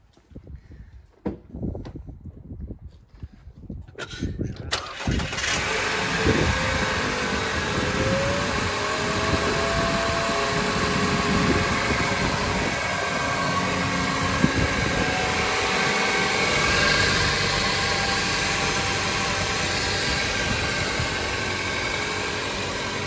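A 205 kW 2.0 petrol Chevrolet Camaro cranks after a few quiet seconds of small knocks, then catches and settles into a steady, loud idle that holds evenly for the rest of the clip.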